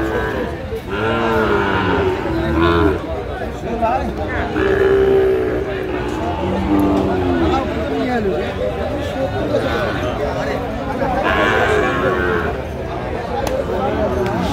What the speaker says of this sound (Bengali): শাহিওয়াল জাতের ষাঁড় বাচ্চা আমরা দেখছিলাম